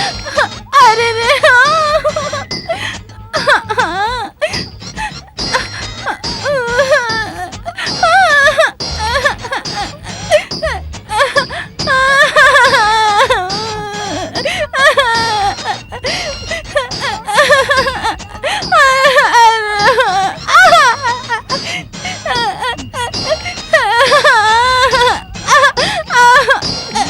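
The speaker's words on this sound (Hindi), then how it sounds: "अंदर संगीत की बजाय रोने की आवाज आ रही है।" A person wails and cries loudly and continuously from inside a room, with rising and falling sobbing moans over about half a minute and voices mixed in.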